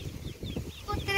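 Chickens cluck in short bursts on a farm at a mango orchard in Alibag, close and moderately loud, with a voice in the background.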